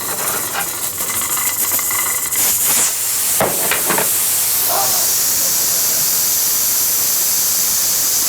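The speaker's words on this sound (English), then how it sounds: "Here's some steam here" Steam hisses during a physics demonstration on heat transfer: a sharp, airy spray builds and holds loud and near, broken by a few brief knocks and clatters partway through.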